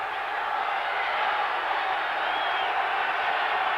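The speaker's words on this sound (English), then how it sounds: "Crowd here at Three Rivers urging the defensive unit on." Stadium crowd at Three Rivers in Pittsburgh roaring for the Steelers defense during a 1995 NFL game, a broad, steady wash of cheering that holds at an even level throughout with no break.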